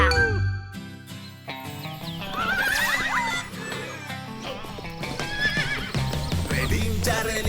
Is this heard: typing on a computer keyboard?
no